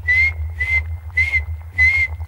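Soft lip whistling, four short steady tones with brief pauses between them, sounding close over a low background hum.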